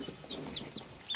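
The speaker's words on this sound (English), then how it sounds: "Chickens. Yeah, chickens." Baby chicks in a brooder peeping softly, several faint high chirps scattered over a brief moment with a slightly louder call at the end.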